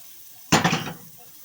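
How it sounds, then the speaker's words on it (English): Mushrooms land in a hot pan with gravy and milk nearby, a sudden sharp hiss and clatter that flares up, pulses briefly, then fades into quiet. "Now we're going to toss these mushrooms."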